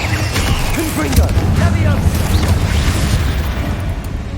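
Spell explosions bursting in Hogwarts Legacy, a string of loud booms and crackling blasts close up, with game sounds churning steadily underneath.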